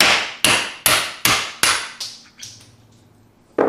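A hammer drives a socket against a pilot bearing into the flywheel of a Gen2 GR86/BRZ transmission, about seven sharp metallic blows in a steady rhythm, the later ones lighter, then a pause and one more strike.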